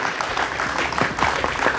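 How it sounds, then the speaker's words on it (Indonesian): Brief applause from a crowd at a youth innovation expo in Lodtunduh, Ubud, Bali: steady scattered clapping lasting under two seconds, fairly close, with a few louder individual claps standing out. "Tepuk tangan buat pemilik hotel."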